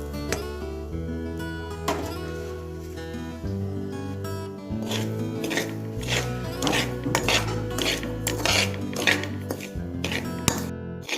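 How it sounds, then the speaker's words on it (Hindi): Semolina roasts in a metal kadhai while a spoon scrapes and clinks repeatedly against the pan, close and fairly loud, in irregular stirring strokes. "अभी गुजिया की स्टफिंग के लिए सबसे पहले हम कढ़ाई में जो सूजी है उसे रोस्ट कर लेते हैं"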